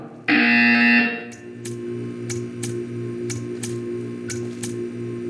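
A loud, harsh electronic buzzer from the video game Portal 2 blares for about a second, then gives way to a low droning hum with faint periodic ticks.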